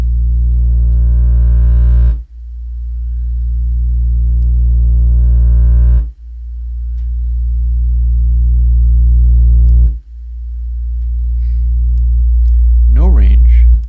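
Airwindows audio plugin effect at a big range setting: a loud, low droning hum that swells gradually then cuts off sharply, repeating in three long cycles, with a brief faint voice-like sound near the end.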